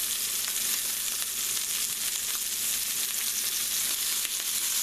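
Steaks sear in a cast iron pan with a steady, loud, dense sizzle and crackle that holds for the whole stretch, close by, with no talking over it.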